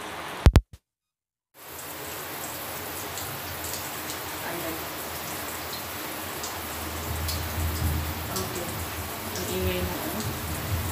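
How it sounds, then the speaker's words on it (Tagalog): Steady rain patters outside as an even hiss, continuous and moderately loud after a few sharp clicks and a brief silence at the start. "Ulan na sa labas."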